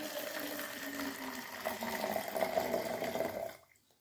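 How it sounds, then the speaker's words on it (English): Water is poured into an overhead tank in a steady, moderately loud splashing stream with a faint tonal ring, then stops abruptly near the end, leaving silence. "Now I am pouring the water."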